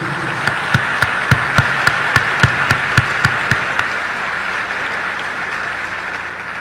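A speech audience claps together in a rhythmic, evenly spaced beat of about a dozen sharp strokes over a steady crowd murmur, then the clapping stops and the hubbub continues.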